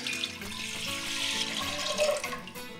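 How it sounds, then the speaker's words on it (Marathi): Measured water pours into a thick-bottomed cooking pot, a steady close splashing and gurgling stream that runs for a few seconds with no voices. "पातेल्यात मेजर केलेलं पाणी हे असंच छान जाड बुडाच्या पातेल्यामध्ये घालायचं"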